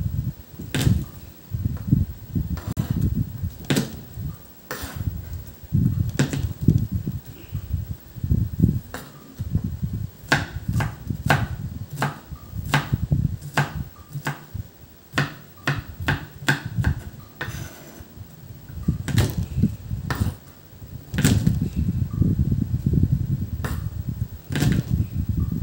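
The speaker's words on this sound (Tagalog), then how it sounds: "hiwa tayo ng bawang" Knife chopping garlic on a cutting board while cooking adobo, a fast run of sharp, close taps in uneven bursts, with a faint low background murmur and no talk.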